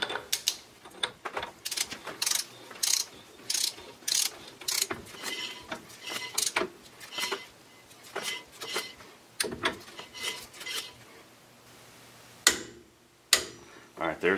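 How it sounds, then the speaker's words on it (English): A torque wrench tightens a spindle nut on a 14 bolt axle while the hub is rotated, making close, irregular ratcheting clicks and metallic mechanical knocks in bursts with brief gaps, with a voice speaking at times. "we're going to torque this spindle nut down to 50 foot pounds while we're"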